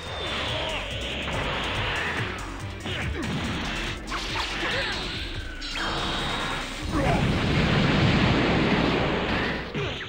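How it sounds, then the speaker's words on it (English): Jibiru's fire breath in Dragon Ball Z Budokai Tenkaichi 2 lets out whooshing roars and crashing blasts in bursts, with a long, dense rush of flame near the end amid game impact sounds. "when did Jibiru know how to breathe fire?"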